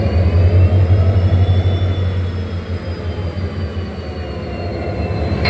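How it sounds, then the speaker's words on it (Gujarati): A locomotive couples onto a passenger train at Dhola Junction, heard as a steady loud low diesel engine rumble with a faint high whine running over it, constant and close, with no voices. "ત્યારે મિત્રો તો લોકોમોટિવ અટેચ થાય છે."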